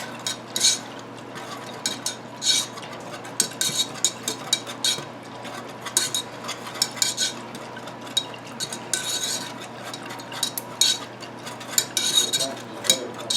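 Elderberry syrup with honey being whisked in a pot or bowl, a quick, rhythmic clatter and scrape of metal against the sides, close and fairly loud, running the whole time with no talking.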